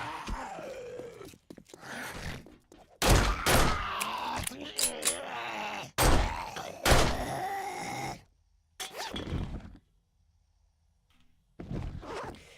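Upgraded pistol firing in the 7 Days to Die video game: a handful of sharp, loud shots spaced irregularly over several seconds, mixed with game sounds and someone talking, then a quiet pause before another shot.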